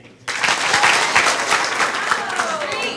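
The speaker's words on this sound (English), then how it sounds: "All right, give him a hand" A room of attendees at a school district board meeting breaks into sudden, loud applause that holds steady for a few seconds, dense overlapping clapping from the audience.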